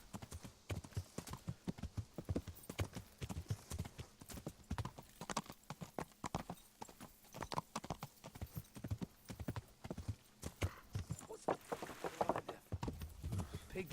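Rhythmic clip-clop of horse hooves trotting steadily in the video game Kingdom Come: Deliverance, close and fairly loud, with a brief whinny and faint game sounds around it.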